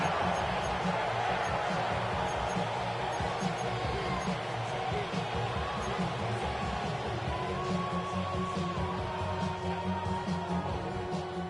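Football stadium crowd building before a third-down play, a dense, steady roar of many voices that holds at a constant loud level throughout with no single standout cheer.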